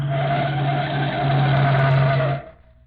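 A car skids hard as it is forced to the curb in an old radio crime drama, a loud sustained screech of tires with engine roar lasting over two seconds before cutting off abruptly.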